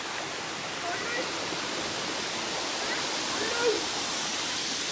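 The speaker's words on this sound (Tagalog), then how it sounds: "Spring flowing lang yan. Wala talagang tigil ang daloy ng tubig." Spring water pours without pause over the terraces of a mountain resort, a steady even rush like a small waterfall that stays constant throughout at moderate level.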